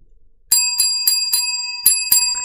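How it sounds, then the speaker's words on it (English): After a moment of near silence, a bicycle-style bell rings loud and close, with six crisp dings spaced unevenly, each leaving a sustained metallic ring. "I've been ringing bells."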